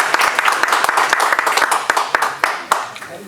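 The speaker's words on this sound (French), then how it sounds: "On applaudit." An audience applauds at an inauguration event, a dense run of hand claps with uneven sharp peaks, steady and fairly close for a few seconds.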